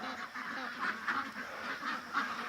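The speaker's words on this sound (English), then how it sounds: "Too many ducks in the yard." Ducks quacking in a yard, a cluster of nasal calls rising and falling in short bursts over steady outdoor background, moderately close.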